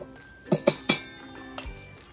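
A spoon mixing gram flour batter for Maggi noodle pakoras clinks sharply against a bowl three times in quick succession, followed by a couple of softer taps, close and clear with no speech.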